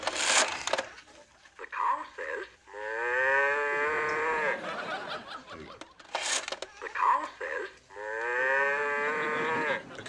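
A toy or device plays a drawn-out cow moo twice in a sitcom scene, each loud and close, with laughter and brief voices around them.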